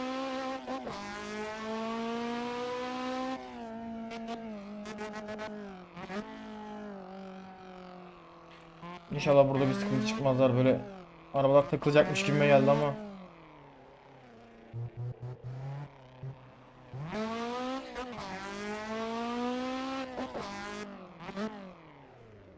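A Honda S2000 in the racing game Assetto Corsa weaves through traffic, its engine climbing to high buzzing revs, dropping at each shift and surging again in loud bursts, while someone speaks over it.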